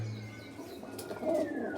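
Pigeons in a loft give low, soft cooing that runs steadily through the clip, with some faint higher chirps and a brief rustle of movement near the end.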